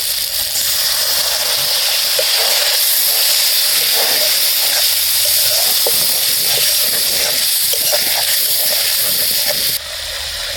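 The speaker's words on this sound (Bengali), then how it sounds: "এবারে জল দিয়ে দেব।" Water poured onto sizzling spice paste for an egg poach curry gives a loud, sustained steamy hiss that fades slightly near the end.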